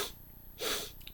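A voice imitates a sad giraffe sniffing, with a short soft breathy sound at the start and a louder, longer wet sniff-like snort in the middle, close and alone with no talk.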